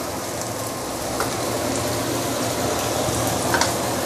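Spices sizzle in hot oil in a pan while braising duck Teochew style, a steady close crackling frying hiss with occasional sharper pops and no talking.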